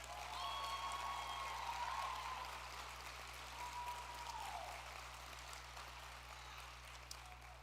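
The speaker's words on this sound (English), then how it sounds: "Please give yourself one more big round of applause." A graduation audience at an EMS program ceremony applauds, a steady, fairly distant wash of clapping that holds for several seconds over a low electrical hum, with a few faint whistling tones early on.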